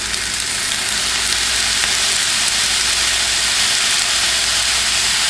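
Soy sauce hits sizzling shrimp fried rice in a hot pan, giving a loud, steady, broadband frying hiss that holds evenly throughout with no voices.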